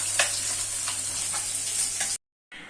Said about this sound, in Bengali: এখন এদিকে ভাত হচ্ছে আর মাছ ভাজা হচ্ছে।